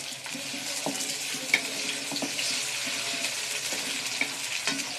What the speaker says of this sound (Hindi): ऑयल हमारा अच्छा सा गरम हो जाएगा तो इसमें डालेंगे प्याज